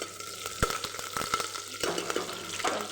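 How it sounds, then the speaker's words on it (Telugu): Green chillies and curry leaves sizzle in hot oil in a pan while cooking tomato rice, a steady close frying hiss with a few sharp spatula clicks and stirring scrapes, no voices. "పచ్చిమిరపకాయ వేసాక కరివేపాకు మిక్స్ కలుపుదాం."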